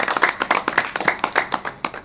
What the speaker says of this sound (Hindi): बजाइए ताली